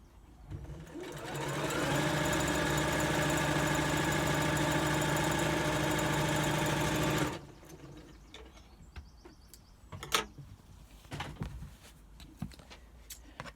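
A sewing machine stitches a log cabin quilt block, running in a loud continuous whir for about six seconds before stopping. Quiet clicks and handling noises follow.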